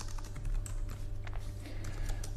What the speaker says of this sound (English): all we have to do is find the right brackets on my keyboard